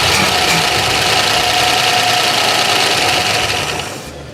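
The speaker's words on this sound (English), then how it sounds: "But this motor sounds quiet." A refurbished car engine runs smoothly close by with a steady, fairly quiet hum and a faint rhythmic tick. It fades out near the end.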